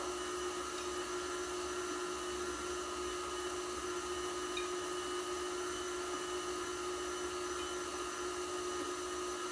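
An electric mixer beats sweet potato bread batter, giving a steady, even motor whine that holds constant without a break, faint and distant, with no talking.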